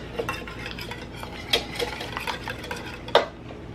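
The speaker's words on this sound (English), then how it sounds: "You want to give that a stir, Jamie?" Three whisked eggs stirred in a bowl for a macaroni and cheese sauce, light clinks of utensil against the bowl with a couple of sharper knocks, close and alone.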